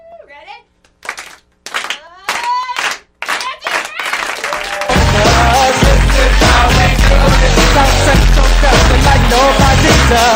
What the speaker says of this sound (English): What we do is slow clap and go into a really fast one for